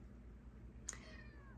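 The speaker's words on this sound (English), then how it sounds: "That's my cat." A house cat gives a single short, faint meow in a quiet indoor room, standing alone over a low background hum.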